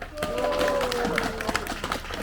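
A street crowd at a public redevelopment promotion event in Sillim, Seoul, gives a short round of applause, scattered claps rising over background voices and a faint tonal hum.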